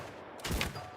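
A single gunshot burst in Mount and Blade II: Bannerlord with the Shokuho Japanese Shogun mod, a loud sharp crack with a brief rumbling tail, alone after a short quiet lead-in.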